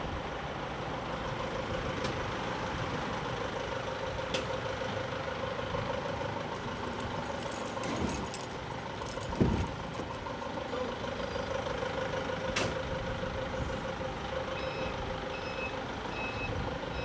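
A truck idles steadily under a reversing beeper, with a sharp air-brake hiss near the middle, all heard at close range with no talking.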